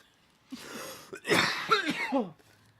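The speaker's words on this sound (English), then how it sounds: "I'm just laughing and coughing over the smoke" A burst of harsh, raspy coughing from smoke, several hacks in quick succession with a breathy gasp before, close and fairly loud, then quiet.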